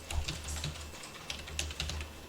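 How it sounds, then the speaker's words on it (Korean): Rapid typing on a computer keyboard during a spreadsheet exercise, a close, irregular patter of key clicks in short bursts with a brief pause midway. "바로 타이핑 하시면 돼요"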